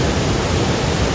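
A brief burst of steady, broadband rushing water at Bogatha waterfall in Mulugu, Telangana, loud and unbroken with no voices.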